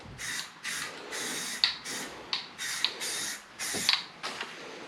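Spray gun coating a Honda car part with paint, heard as a series of about eight separate hissing bursts, each roughly half a second long, with short pauses between them, close and steady, and no talking.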